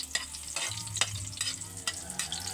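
Food frying in a pan is stirred with a utensil, giving several close scraping strokes over a soft continuous sizzle, fairly quiet and with no voices.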